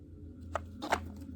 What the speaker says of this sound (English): Just to get you motivated, let's shuffle it up together.